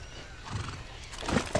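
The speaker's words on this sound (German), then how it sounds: "Ein Pferd haben wir hier." A horse in the Far Cry 6 video game gives a short whinny that rises toward the end, over a steady ambient background and with faint hoof clatter.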